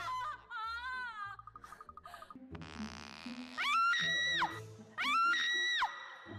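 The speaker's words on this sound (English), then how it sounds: "What is that scream?" A loud, high-pitched sustained scream with wavering pitch, heard as two long held cries over music in a K-pop track.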